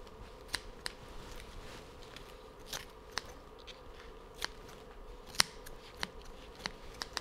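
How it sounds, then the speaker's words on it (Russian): Scissors snip off the leftover leaf stubs of a pineapple, producing about a dozen sharp, close, isolated clicks at irregular intervals over a quiet background. "Мы также берем наши ножницы и аккуратно обрезаем"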